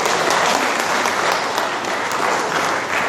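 Sustained loud applause from an audience at a regional government meeting, a dense even wash of many hands clapping close by for the whole stretch.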